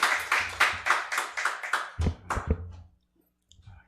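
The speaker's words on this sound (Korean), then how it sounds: "박수로 환영하겠습니다." A gathering at a university prayer meeting in Rwanda claps to welcome a preacher: about two seconds of steady, rhythmic clapping from a modest group, then a few scattered thumps before it falls silent.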